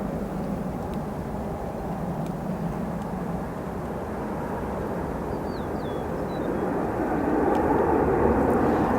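Steady broadband aircraft engine roar at O'Hare International Airport in Chicago, a continuous distant-to-moderate drone that swells slightly louder toward the end, with no voices.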